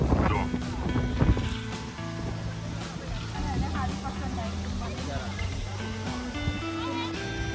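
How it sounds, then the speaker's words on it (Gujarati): Strong wind buffets the microphone outdoors at a temple as rain approaches, a continuous loud rumbling roar; people talk and other background sounds mix in underneath. "જોરદાર પવન"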